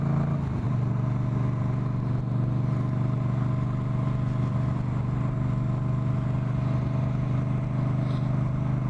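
A Moto Guzzi V9 Bobber motorcycle rides along with a steady, loud low engine drone and rumble that holds at an even pitch throughout, mixed with wind and road noise.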